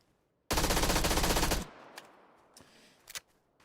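A loud burst of automatic gunfire from PUBG rattles for about a second, then fades into a few scattered, fainter shots and thuds.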